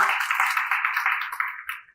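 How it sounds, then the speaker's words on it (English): An audience at a healthcare and MedTech conference in India applauds, a dense burst of clapping that fades toward the end, with no speech. "So I will request the audience to give him a big applause for both of the three."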